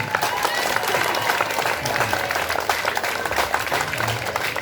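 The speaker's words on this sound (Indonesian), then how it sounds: "Ucapkan terima kasih dengan tepuk tangan sekeras-kerasnya." School audience applauding alumni at an Indonesian high school event, a dense, loud wash of clapping from a crowd, steady throughout with some cheering voices mixed in.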